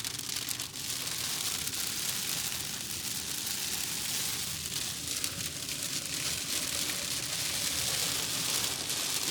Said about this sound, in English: Still hailing.